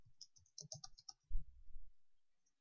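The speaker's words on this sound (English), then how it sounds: "I'll just type in my name" A few quick keystrokes on a computer keyboard, close and fairly quiet, followed by a softer low thump near the end, with no voices.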